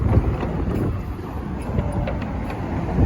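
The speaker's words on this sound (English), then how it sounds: "that wind is rather strong" Strong wind on the Brooklyn Bridge in New York City, a continuous loud low roar buffeting the microphone throughout, with no clear speech.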